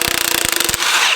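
A Milwaukee impact wrench rattles hard against rusted nuts on a Silverado truck frame, a close, loud burst of rapid hammering pulses that stops abruptly after under a second.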